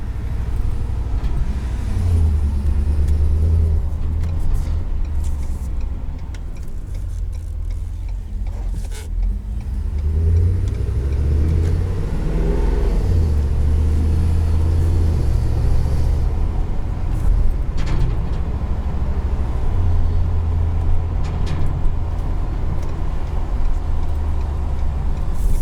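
Deep, steady rumble of a 2021 Ford F-550 Super Duty's 7.3L V8 through an open exhaust, heard from inside the cab as a continuous loud drone that swells and eases with throttle across the whole stretch.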